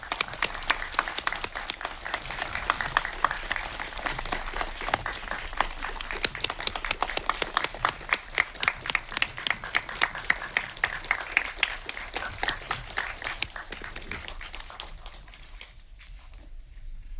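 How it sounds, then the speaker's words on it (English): Audience at a Hong Kong Asian Film Festival post-screening session of Human Resource applauds to welcome director Nawapol, a dense, steady wash of clapping lasting about fifteen seconds before fading away near the end. "please give a round of applause to welcome Director Nawapol"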